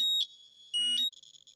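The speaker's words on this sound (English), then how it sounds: "that's its alarm function very clearly going off because, as you can hear, it's detecting radiation and the alarm's going off" A Measall KC761A radiation detector and spectrometer sounds its alarm while detecting radiation, giving loud, piercing electronic beeps in two bursts with a short pause between them, followed by a softer fluttering tone.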